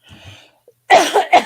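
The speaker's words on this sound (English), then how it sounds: "I don't know what it is, but when I get down here, I always get coughing" A single person gives a sharp cough, near and loud, after a faint breathy moment. The cough comes in two or three quick bursts.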